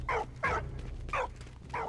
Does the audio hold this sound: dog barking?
yes